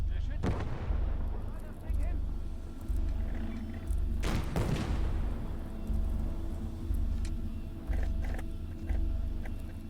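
Field gun, likely a small 45 mm, firing in the Call to Arms: Gates of Hell Ostfront battle, with booming distant shots and an explosion among rumbling battle noise and a low engine drone under it.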